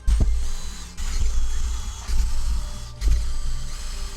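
A drill boring holes through a metal heat sink, in four loud grinding bursts about a second apart with creaking, ratcheting mechanical tones and low rumble, no speech.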